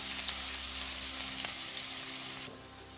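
Red pepper and spices frying in hot oil while being stirred, a loud, steady sizzle with occasional scraping stir sounds, the hiss dropping slightly near the end.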